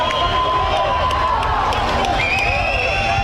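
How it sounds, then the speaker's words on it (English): A high school varsity football crowd cheers for the Cougars against The Hill School at 4th and goal. Loud, continuous shouting and cheering fills the clip, with voices rising over the roar. "the crowd getting behind the Cougars as they face a 4th and goal"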